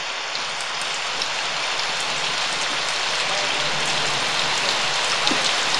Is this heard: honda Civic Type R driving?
no